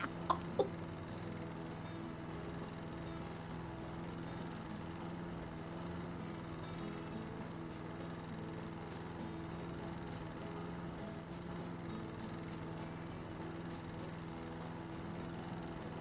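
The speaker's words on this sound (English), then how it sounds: "Just me mowing through the logs." A lawn mower runs in the House Flipper video game, giving a steady mid-pitched engine drone that holds evenly throughout, with two brief clicks at the start.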